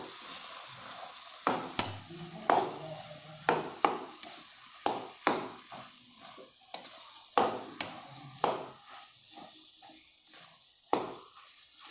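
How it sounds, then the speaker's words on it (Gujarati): A spoon stirs boiled potatoes into pav bhaji masala in a pan, giving a steady series of scraping, clanking strokes roughly every half second over a soft sizzle, close and alone. "હવે આપણે એમાં જે આપણે બટાકાને બાફ્યા છે એને એડ કરીશું, તો એને પણ સરસ રીતે મિક્સ કરવાનું છે।"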